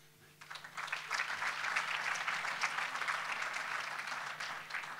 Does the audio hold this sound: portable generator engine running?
no